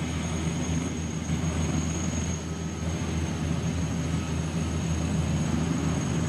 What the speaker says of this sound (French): Franck Genozo, vous êtes toujours dans l'hélicoptère Tigre en stationnaire